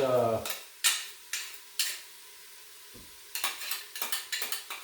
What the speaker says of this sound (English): we're going to put in the garlic, 30 to 45 seconds as usual